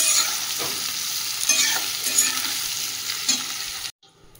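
Jackfruit and potato frying and being stirred in hot oil: a steady sizzle with scraping stir strokes throughout, close and fairly loud, ending abruptly in near silence.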